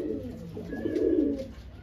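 Madras pigeons coo in a low, throaty rolling murmur that swells to its loudest midway and then eases off, close by and continuous for a couple of seconds.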